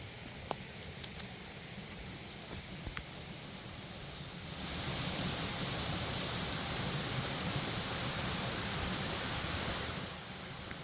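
A waterfall at Glen Onoko on Broad Mountain, a steady broadband rushing roar of falling water that swells louder midway and then eases back, with a few faint ticks.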